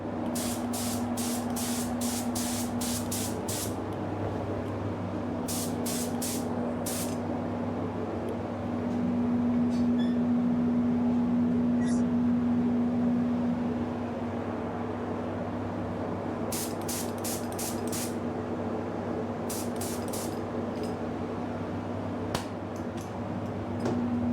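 An aerosol spray can lays a coat of paint on a Ford Focus RS part in a series of short, close hissing bursts with pauses between them, over a steady background hum.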